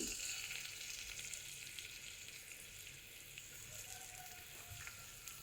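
Ginger and garlic sauté in a little oil in a kadai, giving off a steady, fine, even sizzle close up, with no talking over it.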